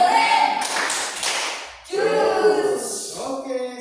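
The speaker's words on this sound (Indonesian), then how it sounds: "beri tepuk keren" A school class claps a rhythmic cheer routine together with loud chanting voices, in two bursts split by a short pause.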